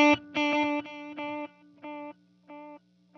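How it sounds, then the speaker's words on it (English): Electric guitar through a TC Electronic Triple Delay set to parallel delays, short bursts of chiming notes repeating in separate echo groups with gaps between, fading gradually, close-miked and with no voices. "So both of those delays are running independently rather than running into one another."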